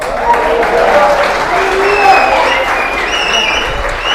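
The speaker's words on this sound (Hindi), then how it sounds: "चिल्ला कर, ताली बजा बजा कर।" A crowd at a religious gathering claps loudly and continuously, with cheering and shouting voices layered over the applause throughout.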